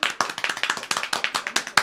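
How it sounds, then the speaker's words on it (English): A short burst of hand clapping in a radio studio at KXVS in Stockton, sounding like just a few people, brisk and close, lasting under two seconds. "let's go ahead and give her a round of applause"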